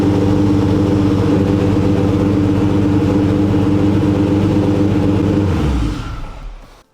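An all-wheel-drive Honda Civic engine on its first start runs rough and loud at idle, with an uneven, lumpy rumble, then shuts off and fades to silence near the end.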